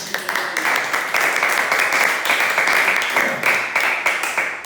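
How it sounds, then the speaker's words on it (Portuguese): A church congregation applauds during a worship service, a steady wash of many hands clapping together, fairly loud and continuous throughout, with faint voices mixed in. "Só quem recebe, dê um forte aplauso."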